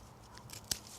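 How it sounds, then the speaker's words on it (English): A single sharp snip cutting through an invasive tree root, one brief crisp cut in otherwise quiet surroundings. "I'm going to cut through both of them"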